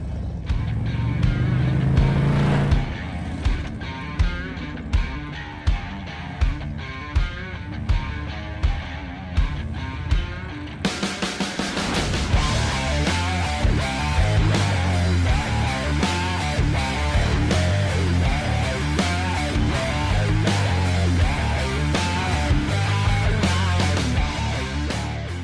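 A Harley-Davidson fitted with Khrome Werks slip-on mufflers rumbles at idle with a loud, steady low throb, then a fuller and louder engine note takes over midway and runs continuously, close by.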